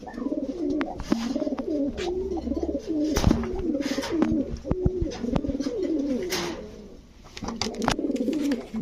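A pair of Bagha pigeons coo repeatedly in low, rolling phrases, close by, with occasional wing flutters and scuffing sounds mixed in.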